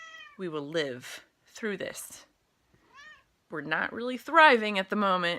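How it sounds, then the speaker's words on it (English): A pet cat named Kitty, a female, meows several times in short bursts close to the microphone while someone talks over and between the calls. "that's my cat. She's meowing."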